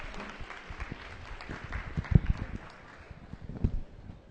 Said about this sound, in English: Huge round of applause, everybody, for Saren.